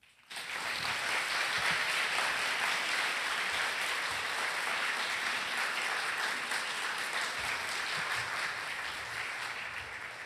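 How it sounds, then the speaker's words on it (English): Audience applause at a closing ceremony in Viet Nam, a dense, even wash of clapping that starts abruptly and holds steady for about ten seconds, fading slightly toward the end. "let's do another round of applause for those beautiful words"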